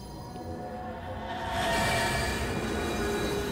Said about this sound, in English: Why are there flaming trams?